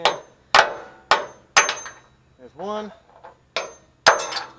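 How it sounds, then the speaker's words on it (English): A hammer strikes a punch held in vice grips while working on a Chevy C10's rear suspension, delivering sharp, evenly spaced metallic blows, about seven in all, with a man counting aloud between them. "Now I just need my punch and my hammer"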